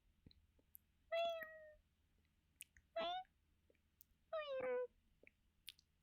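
A voice imitates a cat, giving three separate meows spaced about a second apart, fairly clear against a quiet background.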